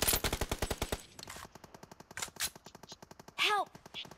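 PUBG video game gunfire: a rapid automatic burst of close shots, then scattered single and short-burst shots further off, mixed with a player's voice talking.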